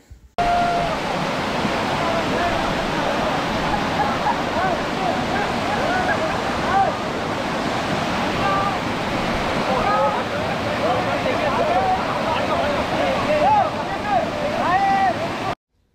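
A steady, dense rush of falling water from Chaparai waterfall in Araku roars close by, a broad constant wash of sound from start to finish.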